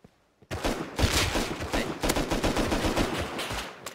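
Semi-automatic rifle fire in the survival game Rust: after a brief quiet start, a close, loud stream of rapid shots and overlapping bursts keeps going for several seconds with no pauses.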